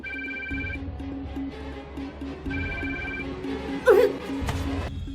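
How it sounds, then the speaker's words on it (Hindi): A phone rings repeatedly and goes unanswered, its tone pulsing in regular bursts over a low background bed, with a brief sharper noise partway through. "रम्या तो मेरा फोन ही नहीं उठा रही।"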